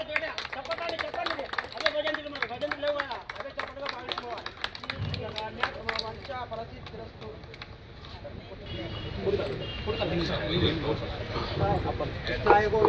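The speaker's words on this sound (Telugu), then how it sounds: "అందరూ చప్పట్లు." Audience clapping at an inauguration ceremony, with sharp, uneven claps close by at first, then a swelling murmur of crowd chatter and movement that builds louder toward the end.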